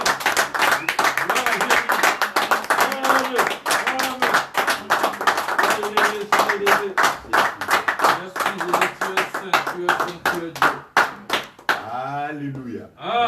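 A church congregation claps hands in acclaim of the Lord, with loud rhythmic claps repeating steadily. Voices sing and shout over the claps, and the clapping thins out toward the end.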